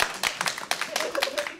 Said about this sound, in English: You fucking clap for that.